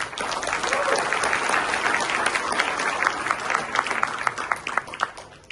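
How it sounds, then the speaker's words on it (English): An audience at a business talk gives a round of applause, many hands clapping in a thick, sustained roar with sharper individual claps standing out near the end. "So give a round of applause to them."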